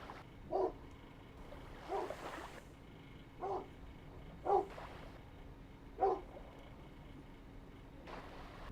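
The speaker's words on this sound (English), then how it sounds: "Dog is barking." A dog barks five times at roughly even intervals, a single sharp woof about every second and a half, moderately distant over a low steady hum, with no one talking.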